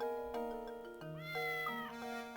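A cartoonish cat meow from the video game Professor Layton and the Curious Village, several drawn-out tonal mews in succession over soft game music, clear and upfront.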